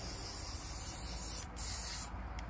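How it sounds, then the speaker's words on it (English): Gorilla Glue clear spray adhesive hissing steadily from an aerosol can onto car seat cushion foam during a repair, a close continuous spray with two brief pauses. "I'm gonna spray the Gorilla Glue onto this side"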